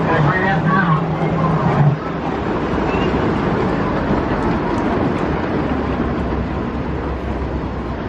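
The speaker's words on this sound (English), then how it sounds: "Let's hop aboard the Enchanted Forest Express, take a little train ride around the park." Miniature Enchanted Forest Express train ride at a storybook park in Old Forge, NY: a steady rumbling, rattling ride noise runs throughout with a crowd murmur, and a voice speaks briefly near the start.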